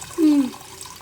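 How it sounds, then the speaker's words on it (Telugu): Tamarind juice is poured into a pan of Telangana-style fish curry, making one short liquid splash and gurgle lasting about a third of a second against quiet room noise. "చింతపండు రసం పోసేసుకుందాము."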